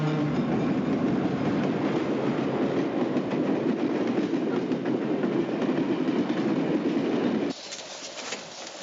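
A train rolls steadily along the tracks with a continuous low rumble and faint rhythmic clatter, loud and close, then drops abruptly quieter near the end.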